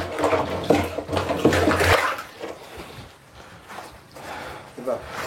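Water pouring into a barrel while a biofertilizer is prepared in Africa, a rushing, splashing flow that is strongest at first and then fades to softer trickling, with voices talking over it.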